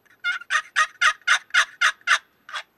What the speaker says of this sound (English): Just hold on to it lightly so the call can resonate and create that turkey sound.